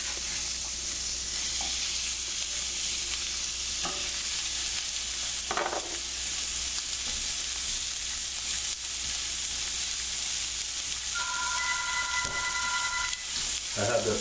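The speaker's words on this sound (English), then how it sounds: "You hear that sizzling?" Beef rib bones sizzle loudly in a pan over a very high flame, a constant hissing fry with a few faint clinks and knocks, and no voices.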